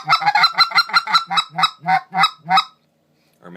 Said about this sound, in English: you can cluck with the ricer just like you can cluck with any of them